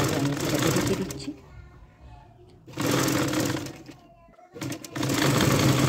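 A sewing machine stitches a fabric sleeve, running loud in three bursts with short pauses between, each run a steady mechanical whir.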